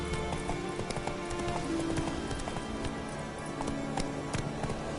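Roach, a horse in The Witcher 3, gallops with a quick, continuous clip-clop of hooves under a steady game soundscape and faint rain-like texture, no voices.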